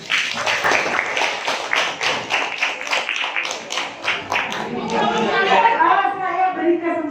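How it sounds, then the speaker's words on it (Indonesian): Students in a classroom clap for a group during a teaching session, a brisk patter of hands with chatter and voices mixed in, thinning into talk near the end. "Beri tepuk tangan."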